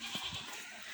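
A goat gives a brief, close bleat lasting under a second, heard alone against a faint background.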